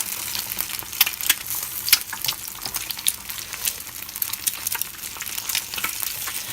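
Eggs fry in a pan with a continuous crackling sizzle full of sharp pops and spits, close and moderately loud, without speech.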